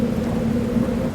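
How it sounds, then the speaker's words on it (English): A thunderstorm brings steady rain with a low rumble of thunder beneath it, a short, dense wash of sound with no voices. "and the rain came down"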